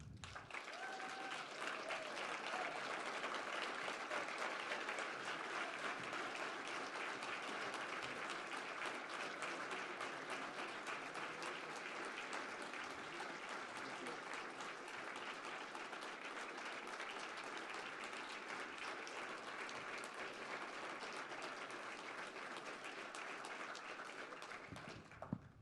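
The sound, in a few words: audience applause at alumni awards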